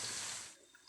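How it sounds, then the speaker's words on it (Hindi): Black raisins being rinsed in water, a brief close splash and swish of water for about half a second that then fades into quiet. "अच्छी तरह से पानी से"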